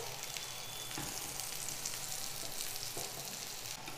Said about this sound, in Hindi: धीमी गैस पे इसको हम सिकने देंगे। ऊपर से हम तेल और लगा देंगे थोड़ा सा।